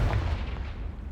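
A Confringo blasting spell explodes in the video game Hogwarts Legacy as a short, heavy, booming blast with deep rumble, loud and close, alone with no talk.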